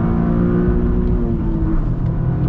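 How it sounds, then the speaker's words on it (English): A 2023 Toyota GR Corolla engine holds high revs, bouncing against the rev limiter in a loud, close, steady drone with slight rhythmic stutters and no talking. "it'll let you bounce off the rev limiter."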